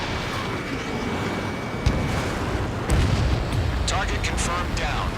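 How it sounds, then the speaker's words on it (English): Missile launch and blast in the Ace Combat 7 jet combat game, a low rumbling burst followed by a louder whooshing detonation around mid-clip, over steady engine drone with radio voices chattering. "Missile launched."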